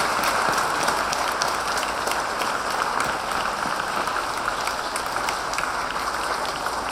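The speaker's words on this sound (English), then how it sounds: "Let us give a great applause for him also" Loud, sustained applause from a large audience at a St Paul's feast celebration, dense and even throughout with no pause.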